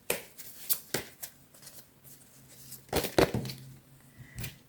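Tarot cards are shuffled by hand, a series of quick riffling bursts and soft slaps, close and fairly quiet, with a louder cluster near the end.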